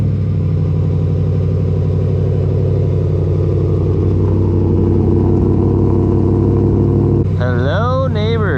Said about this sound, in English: let's get straight to the exhaust note and a cold start